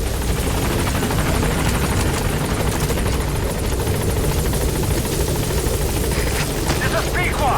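Pequod, a transport helicopter in Metal Gear Solid V, flies close by with a loud, steady rotor chop and engine roar that fills the whole stretch, with a voice talking over it.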